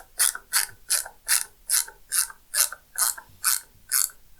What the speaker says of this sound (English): those screws now should go in exactly where we need them